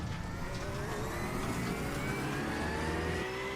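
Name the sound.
car engine revving in iRacing, from a video game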